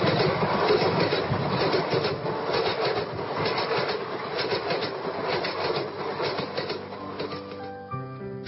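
A train pulling away from a small station, steady rumbling rolls with rhythmic clickety-clack beats for several seconds, fairly loud and continuous, then giving way to a soft music tone at the end.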